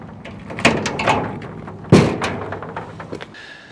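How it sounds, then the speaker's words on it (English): A barn door is opened with a couple of heavy thuds and a sliding rumble, close and fairly loud against quiet surroundings, with no voices. "we're going to open the barn door ready for the guys to come home"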